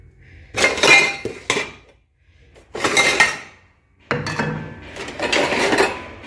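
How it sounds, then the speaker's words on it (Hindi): A knife and bowls are picked up and handled in a home kitchen, giving three bursts of clinking and clattering utensil and dish noise, close and fairly loud, with quiet gaps between them. "तो हूँ मैं छुरी ते बाकी प्याले चुक लवा।"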